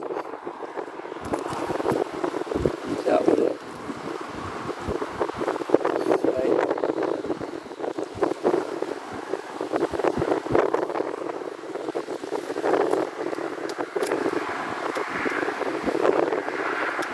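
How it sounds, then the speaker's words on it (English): Wind gusts rumble against a small fishing boat at sea off Jamaica, a constant loud buffeting roar with water slapping, while someone talks over it. "It's windy. It's windy today."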